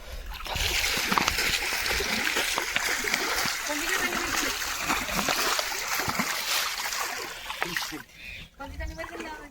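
A fishing net is dragged through water in the Sundarbans, making steady close splashing and sloshing throughout, with brief trickles near the end. A person talks over the water noise.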